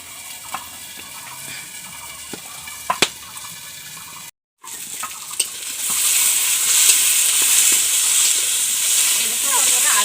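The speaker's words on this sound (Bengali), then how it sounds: "হলুদ আর নুন দিয়ে চাপা দিয়ে ভেজে নেব" Potatoes fry with turmeric and salt under a covered pan, first a quiet scene with a few sharp clicks and taps, then a steady bright sizzle that swells up and keeps going.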